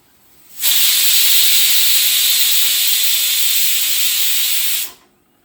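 A pressure cooker whistles while cooking mint vegetable rice, releasing one loud, steady hiss of steam that starts sharply, holds for about four seconds and cuts off, close and alone.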